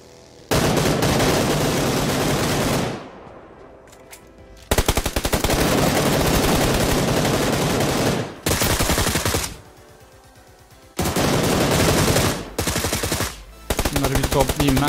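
Automatic M762 rifle bursts in the PUBG Lite game, loud sustained fusillades of rapid shots in several long volleys with short gaps and pauses between them.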